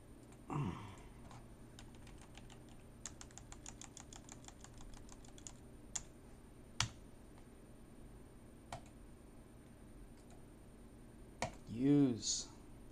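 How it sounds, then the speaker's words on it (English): A computer keyboard typed on in quick bursts of light clicks, with pauses and a few louder single taps, close and faint, with brief speech near the end. "What's the keyboard doing?"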